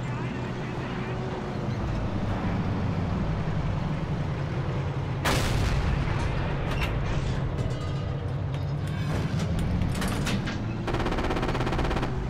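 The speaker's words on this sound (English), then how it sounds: "Let's fire at the AT gun first." Gunfire in Forgotten Hope 2, a WWII shooter set at Bastogne, with sharp bursts and shots over a constant rumbling battlefield and engine din, a louder blast near the middle and more shots toward the end, under talk.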